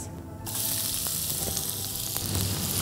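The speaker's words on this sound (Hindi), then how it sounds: "प्याज इसे ब्राउन होने तक भून लेना है" Chopped onions frying in hot oil give off a loud, continuous sizzle that bursts in suddenly after a brief quiet moment and holds steady throughout, close up, with no voices.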